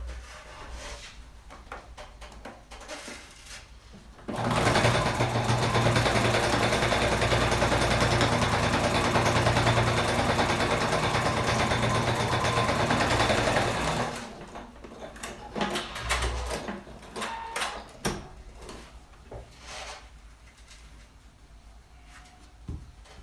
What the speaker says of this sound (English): Draw a line and stitch on this one.